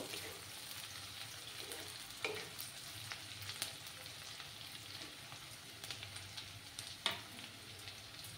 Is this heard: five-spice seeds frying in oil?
yes